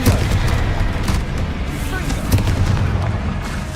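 Confringo fire-spell explosions from Hogwarts Legacy combat, loud, continuous low booms and crackling impacts with a couple of stronger hits, filling the whole stretch.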